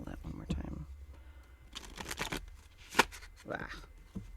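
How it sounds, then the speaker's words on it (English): Tarot cards are shuffled in several quick riffling bursts, crisp papery flutters with soft taps between, close and fairly quiet. "I feel like I need to shuffle that one more time."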